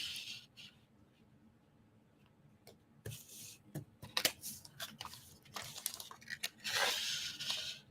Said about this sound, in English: I'm going to use my wonderful photo tape to do that.